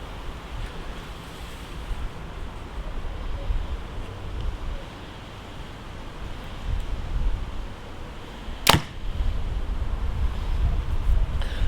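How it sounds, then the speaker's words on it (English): Steady wind roars and buffets outdoors, a low constant rumble with gusty swells and one brief sharp click near the end. "it's a pretty windy day out here"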